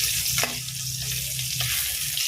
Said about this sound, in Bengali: গ্যাসটা একটু কমিয়ে আমি মাছের মাথাটাকে ভালো করে ভেজে নেব